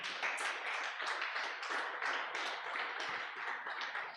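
Church congregation clapping throughout, a dense steady patter of many hands filling the space at even loudness, with no speech over it.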